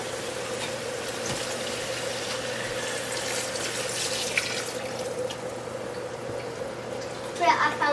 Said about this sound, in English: We're gonna add a bit of water